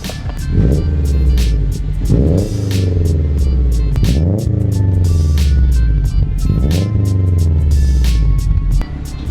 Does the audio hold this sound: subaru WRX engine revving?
yes